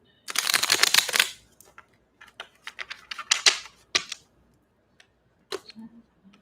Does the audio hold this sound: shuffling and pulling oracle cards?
yes